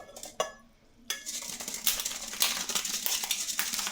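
Boiled eggs are lifted out of a pot with metal clinks and clatter, a few sharp knocks followed by a wash of bubbling, watery noise, close and fairly loud.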